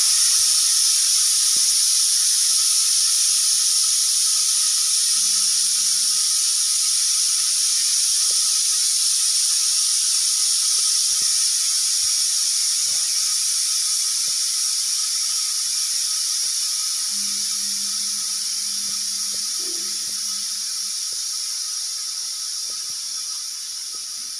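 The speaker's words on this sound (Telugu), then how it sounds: "ఇప్పుడు ప్రెషర్ తీసేసుకోవచ్చు." A pressure cooker holding mutton drumstick curry releases steam in one loud, continuous hiss that fades slightly over about twenty-four seconds, with faint kitchen clicks and a low hum underneath.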